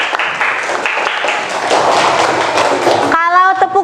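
A fourth-grade classroom claps for a student group in a loud burst of dense applause lasting about three seconds, then it stops abruptly as voices take over.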